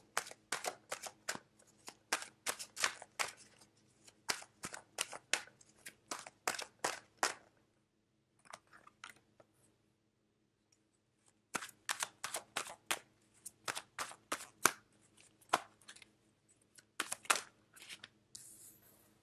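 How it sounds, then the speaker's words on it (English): Tarot cards being shuffled and drawn, with rapid bursts of crisp riffling clicks in two long runs separated by a quiet pause, close and fairly soft, with no talking. "So let me pull out two more cards and see what's going on for you."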